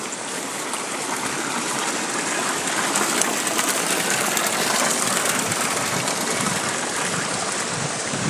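Water gushing steadily from the pipe of a hydraulic ram pump fed from a tank two metres up, a loud, dense, continuous rushing flow heard up close.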